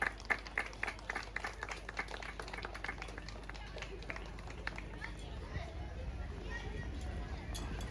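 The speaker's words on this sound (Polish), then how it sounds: "I brawa dla niej." A crowd applauds the winner at the awards ceremony of a fox-chase running race, a burst of sharp claps that thins into scattered clapping under steady crowd chatter.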